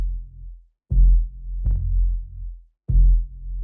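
A soft sub bass layer for an organic house groove plays alone, a few long, deep sustained notes with rounded swells and brief gaps between them.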